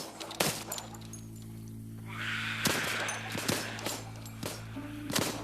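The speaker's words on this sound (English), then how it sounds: "All right, well, start shooting." Gunshots ring out in the virtual reality zombie game Arizona Sunshine, several sharp separate bangs spread over a few seconds above a low steady hum.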